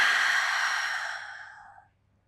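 A single long exhale during a beginner pilates mat workout, a breathy, airy rush that starts loud and close and slowly fades out over about two seconds, with no talking.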